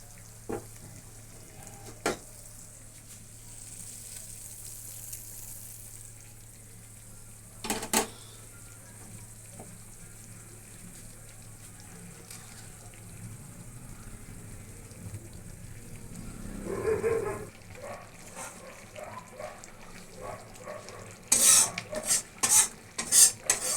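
Fried masala of ginger and cumin paste is stirred into lentil khichuri in a pot, with soft sizzling and scraping under a low hum, a few sharp utensil clinks, and louder stirring and clatter near the end.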